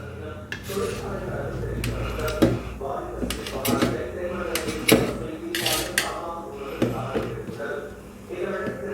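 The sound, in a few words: cutting idli into pieces with a knife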